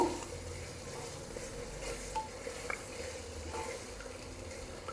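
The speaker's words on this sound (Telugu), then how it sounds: "ఇప్పుడు ఇది వేసుకుందామండి ఇది ఒక నిమిషం పాటు ఇలా ఫ్రై చేద్దాము" An onion-tomato paste fries in oil in a pressure cooker for mutton curry, making a low, quiet, steady sizzle with faint stirring scrapes and no one speaking.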